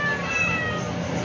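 A cat's meow, near and fairly loud, with a long drawn-out tone that fills the short moment without any talk.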